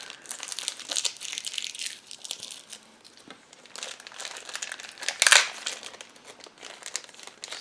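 Scotch tape and plastic packaging are peeled and crinkled off a boxed Nendoroid Tohru figure, giving close, loud crackling in irregular bursts with a sharp tearing rip near the end and no talking.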